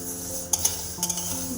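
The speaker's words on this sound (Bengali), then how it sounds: "ডালটা ভেজে নিচ্ছি এখানে।" Moong dal dry-frying in a kadai on a gas flame, with two quick spatula scrapes and clinks against the pan over a faint low hiss, and no voices.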